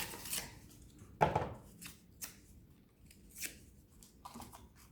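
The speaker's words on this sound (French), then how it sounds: "il va vous falloir couper des petits morceaux de papier et les mettre dans le mixeur avec du carton" Scissors cut small pieces of paper for homemade seed paper, giving several crisp, separate snips at close range with quiet pauses between them.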